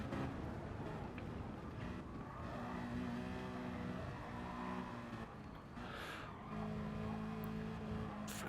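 A race car, a Subaru in an online racing video game league, is thrown hard into turns, its tires squealing in drawn-out tones over a constant engine roar.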